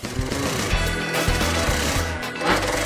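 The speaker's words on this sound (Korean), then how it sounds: "능숙한 손놀림으로 정모 작업을 마치면 고정을 위해 미싱 작업을 합니다" A sewing machine stitches hair onto a wig in a workshop, giving a steady mechanical rattling hum with repeated stitching pulses and slight changes in pace.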